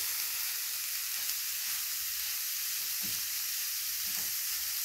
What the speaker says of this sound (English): you can hear the sizzling sound, eh? That means it's a nice cooking going ahead